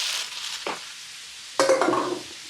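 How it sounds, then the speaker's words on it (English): Spinach and garlic scape pesto being stirred in a pan, with a brief scrape near the start followed by a louder burst of sizzling and utensil clatter against the pan. "And we're going to give that a good stir"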